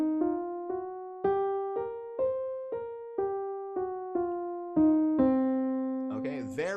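A minor blues scale in C played note by note, a dozen or so evenly paced plucked tones stepping up then back down, ending on a sustained low note, quiet and alone.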